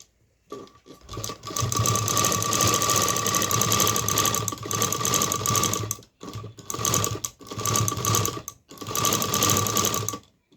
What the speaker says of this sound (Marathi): आता मी शिलाई करून घेते तर हे पहा इकडनं शिलाई करून घेते